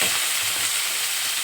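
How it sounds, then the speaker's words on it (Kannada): Cumin and mustard seeds tempering in hot oil in a pan, a bright, continuous sizzle that stays close and even throughout. "ಬಾಂಡೆ ತಿಕ್ಕಿ ಒಗ್ಗರಣೆ ಹಾಕಿದೆ, ಜೀರಿಗೆ ಸಾಸಿವೆ ಹಾಕಿ"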